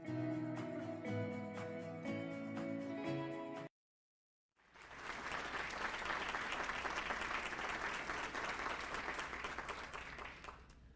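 At a State of the Cities 2023 event, music from a video ends, then after a brief silence a large audience breaks into steady, loud applause that continues evenly to the end.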